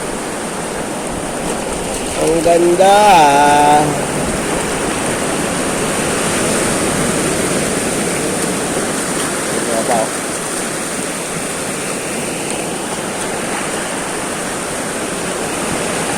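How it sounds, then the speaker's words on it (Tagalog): Sea waves wash steadily onto a shore in General Nakar, Quezon, a broad continuous roar of surf close by, with a brief whistle-like sound and voices speaking over it. "Ito ang dagat."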